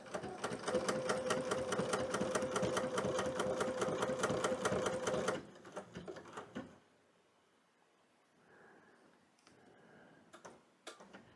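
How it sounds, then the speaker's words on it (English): A home sewing machine stitches a wool appliqué pattern, its needle running in a fast, steady mechanical rattle for about five seconds before stopping, followed by quieter clicks and handling noises. "Now I'm going to tell the machine I just want to stitch one at a time. Just stitch the pattern"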